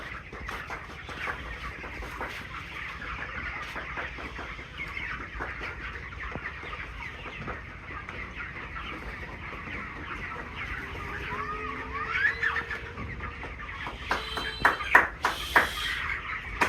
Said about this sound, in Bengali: আবার দুর্বল অসুস্থ মুরগি আছে নাকি।